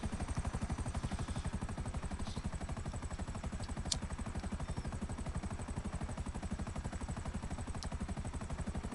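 A helicopter in the video game GTA V flies steadily, its rotor chopping in a fast, even rhythm for the full length, loud and constant, with a couple of brief sharp clicks on top.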